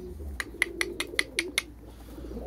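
Pigeons in a large coop give a quick series of about seven short, close calls over a low background rumble.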